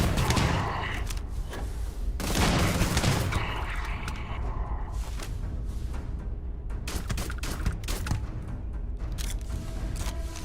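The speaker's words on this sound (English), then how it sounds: "Explosive rounds make quick work for them" Dense gunfire with explosive rounds in the video game Starfield, loud overlapping shots and booming impacts in rapid, uneven bursts, continuous throughout.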